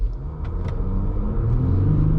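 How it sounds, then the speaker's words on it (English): A Jeep Grand Cherokee EcoDiesel (WK2) with an Injen intake and baffle-delete exhaust pulls away from a dead stop, its engine rumble rising in pitch as the turbo spools up, close and steady over about two seconds. "I just want to kind of see what happens from a dead stop, and then the turbo kicks in."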